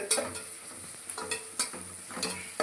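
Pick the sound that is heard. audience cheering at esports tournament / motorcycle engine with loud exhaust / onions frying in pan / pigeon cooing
onions frying in pan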